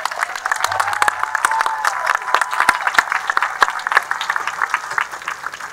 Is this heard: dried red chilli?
no